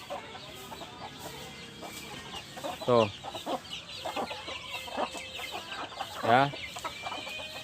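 Free-range village chickens in a simple backyard rearing pen cluck with two louder squawks standing out, moderately close, while a person speaks briefly.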